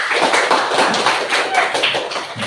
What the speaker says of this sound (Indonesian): tepuk tangan untuk Billy.